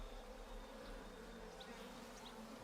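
A swarm of bees buzzes as a sound effect at a tabletop Pathfinder game, a steady dense drone held at even loudness throughout, with no voices.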